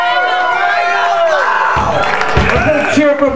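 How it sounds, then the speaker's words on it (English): A crowd at a live rock show cheers loudly and continuously, with shouts and whoops rising over ringing music that fades out midway. "A big cheer from Grand Rapids to the Volcanoes"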